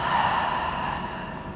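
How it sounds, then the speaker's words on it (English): A single long, deep breath pushed out through the mouth during a yoga session, audible as a breathy whoosh that fades over about a second and a half. "Taking a deep inhale and exhale out your mouth."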